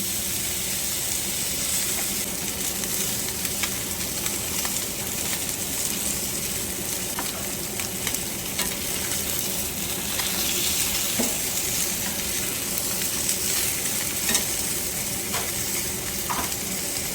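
Ribeye steaks sear in a hot pan with a steady, loud, continuous sizzle and hiss, close up and unbroken for the whole stretch, with no voices over it.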